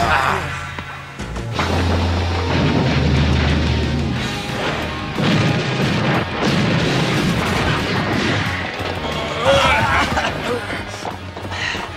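Rockets launching and exploding inside a cartoon fireworks factory, a dense continuous barrage of crashes and booms with whooshes throughout, loud and close.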